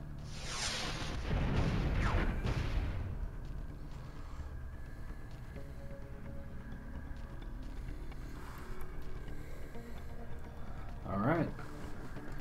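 Artillery bombardment in the space game Star Traders: Frontiers opens with a heavy rumbling boom and whoosh that fades over a few seconds, followed by a faint whirring pulse later, with talk over it.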